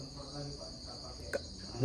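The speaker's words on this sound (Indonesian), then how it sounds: "di sebelah kiri saya ada jangkrik madu jenis jantan" A male honey cricket (jangkrik madu) keeps up a faint, steady high-pitched chirp close by in a quiet room, with a brief soft knock partway through.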